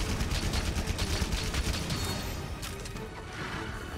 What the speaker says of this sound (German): diese Explosion ist gewaltig